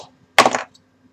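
A bottle of Weihenstephaner Vitus wheat beer pops open with a single short, sharp burst, close and clear, followed by a faint hiss in an otherwise quiet room.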